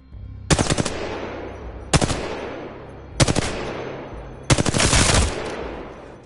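Four separate bursts of rapid automatic gunfire from a weapon in a video game, each a loud rattling volley with a reverberant tail, spaced about a second and a half apart, the last burst longest.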